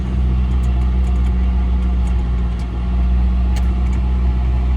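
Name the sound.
vehicle engine started and running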